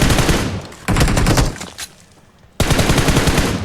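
Rapid automatic gunfire in the mobile battle royale game PUBG Mobile in Pochinki, loud bursts separated by short gaps, with a brief quieter lull before a final sustained volley.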